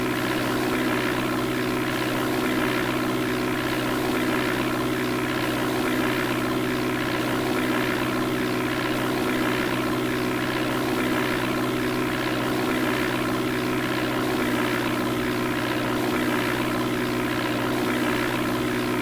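Simulated propeller aircraft flies past in the DOS game Flight Simulator 4 with a steady, loud synthetic engine drone that holds unchanged throughout.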